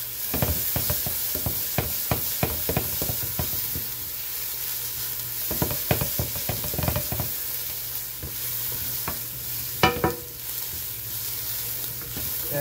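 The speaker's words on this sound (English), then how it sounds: "I just want to sweat the vegetable." Vegetables and garlic sweating in a pan for pasta bolognese, a constant sizzle broken by brisk, rhythmic stirring clacks of a utensil against the pan.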